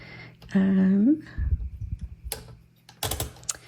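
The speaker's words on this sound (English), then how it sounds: "I'll load some paper so you can kind of hear what it's like to type on this" Clacking keystrokes of a 1984 UNIS TBM Deluxe manual typewriter in short, uneven bursts, close up, after a brief humming tone at the start.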